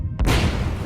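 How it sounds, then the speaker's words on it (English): A propane reboiler at a chemical plant ruptures in a sudden, loud, deep boom that rolls on as a rumbling roar after the blast, with no talking. "Propane exploded from the reboiler and ignited to create a massive fireball"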